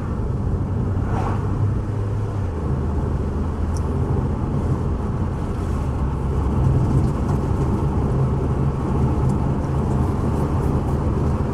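Steady engine and road drone from inside a Renault Clio driven in normal mode after warming up, a constant, even rumble with no talking.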